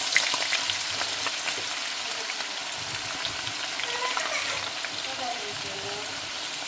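Onions fry in hot oil, giving a steady, moderately quiet sizzling hiss with soft stirring scrapes underneath, continuous throughout with no clear talk over it.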